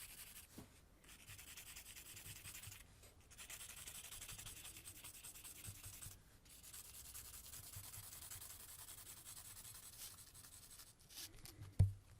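Papermate pencil scratching across paper in a steady, continuous drawing stroke, soft and close, with brief pauses and a small knock near the end.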